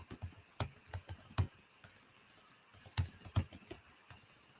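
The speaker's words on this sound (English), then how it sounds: "my typing is terrible today" Typing on a computer keyboard, a run of sharp, uneven key clicks and clacks close by with short pauses between bursts, heard alone.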